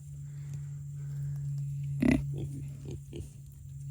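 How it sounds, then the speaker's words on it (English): A pig grunts once, fairly loud, followed by a few softer grunts over a steady low hum. "had to show you some pigs"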